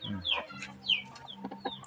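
About eight hens clucking in short, scattered bursts at close range, with a low steady hum running underneath.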